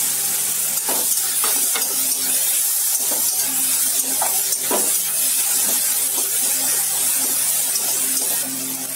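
Steady sizzling hiss of chopped tomato with ginger, garlic and pepper paste frying in a pan, continuous and fairly loud throughout, with occasional soft stirring knocks.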